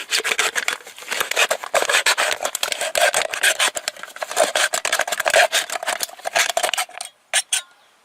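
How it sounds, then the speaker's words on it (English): A knife blade saws through the end of an aluminum can, producing a rapid run of harsh, close scraping and rasping strokes that continue steadily before breaking into a few final short scrapes. "I'm going to use my knife. I'm going to cut the end off of it"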